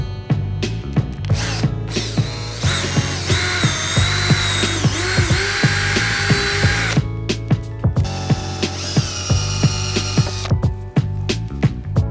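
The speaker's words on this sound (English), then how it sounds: "Using a drill bit, we're going to drill a hole through the center of the rivet." A power drill whines steadily while boring through metal rivets on a 2014-2021 Jeep Grand Cherokee, with repeated clicks and clanks of the bit catching, loud and close throughout.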